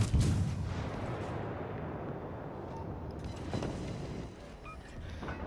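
Heavy ship guns booming in World of Warships aboard the Japanese tier 2 premium cruiser Katori, a loud opening blast followed by a long rumbling roar and distant thuds, with no talk.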